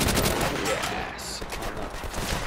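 A short, rapid fusillade of gunfire from the video game Call of Duty: World at War crackles loudly and continuously, with overlapping shots and faint voice activity beneath.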